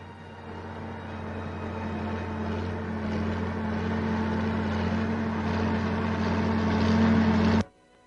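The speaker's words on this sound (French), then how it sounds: "Le tracteur arrache les lourdes pierres." A heavy tractor engine drones steadily while pulling out large stones in an Algerian vineyard field in 1959, a loud continuous mechanical rumble that grows slightly then cuts off abruptly near the end.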